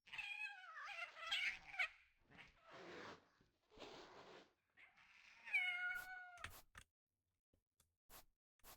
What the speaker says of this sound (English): Where's that cat coming from?